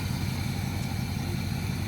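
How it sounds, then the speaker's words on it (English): A 1977 Chevy Camaro engine idling steadily, a smooth low rumble that holds constant and fairly loud, with no revving or voices. "the good news is it just sits here and idles and sounds really good"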